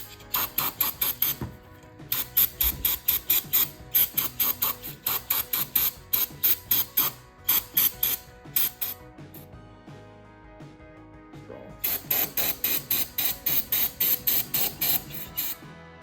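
Rapid bursts of spray cleaner hit engine parts from a Ford F150, coming in quick rhythmic pulses close up, pausing for a few seconds in the middle before another run of short sprays, with no talking.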